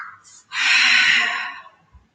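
A single deep exhale through the nose during a Pilates session, a loud close rush of breath lasting about a second that fades off, preceded by a short soft intake.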